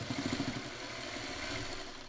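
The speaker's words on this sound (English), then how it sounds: "I'm going to sew it so they can see" A sewing machine stitches a quilt block, giving a steady mechanical hum with some rhythmic clatter at the start, moderately close and without speech.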